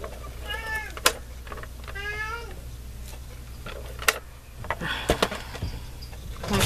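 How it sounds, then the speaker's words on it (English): A hungry cat meows twice, close and plaintive, over a low background hum, followed by some clatter and handling noises. "My cat really needs to be fed."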